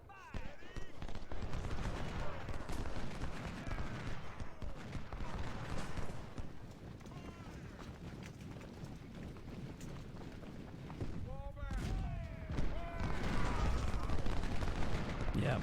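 Artillery and gunfire in the Civil War strategy game Ultimate General: Civil War, a dense, continuous rumble of cannon and musket fire with sharp cracks, steady and loud throughout the battle.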